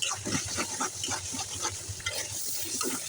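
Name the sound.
sautéing spice paste with salt in a pan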